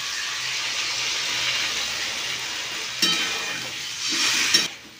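Chhena curry with a little added water simmering in a pot, a steady close hiss that swells briefly twice near the end. No one speaks.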